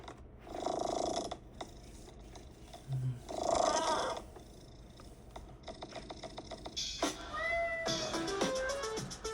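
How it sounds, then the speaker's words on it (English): A cat's meow is sampled into the intro of a lighthearted song, with several short meows and purring tones set against soft musical textures and light clicking. "we sampled his meow because he's really cute"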